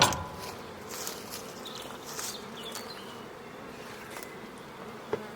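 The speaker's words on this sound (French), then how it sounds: "cette ruche, du moins pour l'instant c'est un essaim" Honeybee swarm buzzing around a hive in spring, a steady soft hum of many insects throughout with a few brief louder passes nearby, no talking.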